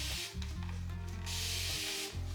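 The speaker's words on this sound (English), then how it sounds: "I really love the water bottles with the continuous spray" A continuous-spray water bottle mists water onto hair during styling, making a steady close hiss that briefly pauses and restarts.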